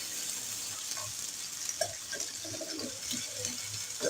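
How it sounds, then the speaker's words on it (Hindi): Water poured into a pan of frying spice masala with tomatoes for aloo palak, giving a steady close sizzle and bubbling hiss with faint stirring scrapes, no talk. "इसमें 3 से 4 टेबल स्पून में पानी डाल रही हूँ ताकि ये मसाला जले नहीं"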